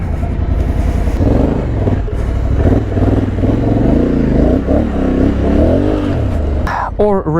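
Honda Africa Twin motorcycle with DCT gearbox revving steadily while gears are shifted by foot, a loud close engine drone rising and falling in pitch, with a voice over it near the end.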